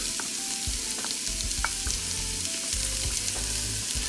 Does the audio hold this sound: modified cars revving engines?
no